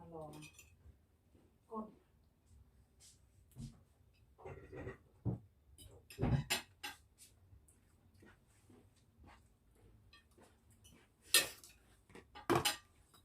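Plates and cutlery clinking as dishes are handled in a home kitchen while serving spicy papaya salad and rice noodles, scattered faint chinks and taps with quiet background sounds.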